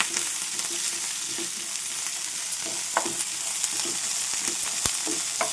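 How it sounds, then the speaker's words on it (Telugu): Sweet corn and vegetables fry in hot oil for a curry, a steady close sizzle broken by soft scraping stir clicks, with no talk. "చూడండి, చక్కగా ఫ్రై అవుతున్నాయి ఆయిల్లో"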